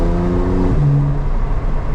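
A Porsche 911 Turbo S engine accelerating, a loud steady drone that shifts pitch as it changes gear partway through, then carries on under road noise, no talking.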